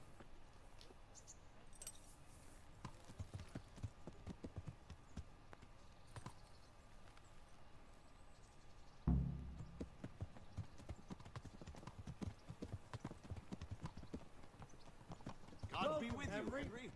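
Horse hooves clip-clop steadily in Kingdom Come: Deliverance, a quiet even trot with sharper knocks that carries on under conversation, with harness jingle and a brief louder thump partway through.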